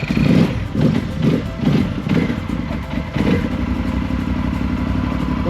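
A motorcycle engine being revved while trying to start gives several loud throaty pulses, then settles into a rough, continuous running rumble close by.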